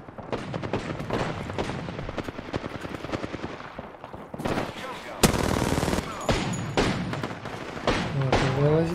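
Rapid automatic gunfire bursts from a firefight in the Apex Legends battle royale game, dense and continuous, with a sharp louder volley midway and further shots trailing toward the end over game background noise.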